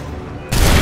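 A sudden loud musket volley in Assassin's Creed 3 breaks halfway through a short moment of American Revolution battle ambience. It cuts in as a dense, crackling wall of gunfire.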